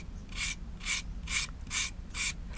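Close rasping strokes scrape white coconut meat for a Thai dessert topping, five evenly spaced scrapes with brief pauses between them and no talking.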